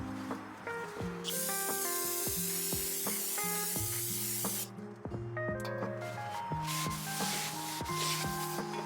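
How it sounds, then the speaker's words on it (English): Brake cleaner hisses onto a new front brake rotor of a 2011–2014 Dodge Charger in two long spray bursts, heard fairly quietly under a steady musical backing. "clean it with brake cleaner to remove the factory coating"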